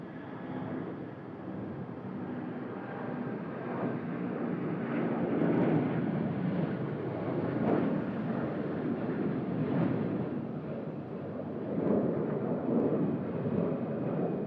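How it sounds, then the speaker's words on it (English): Garuda Airbus A330-300 jet departing Sydney Airport for Bali, a distant, sustained roar that swells and rumbles with low jet noise over many seconds, no talk. "Oh, lovely sounds out of the Garuda A330 300 there, back to Bali."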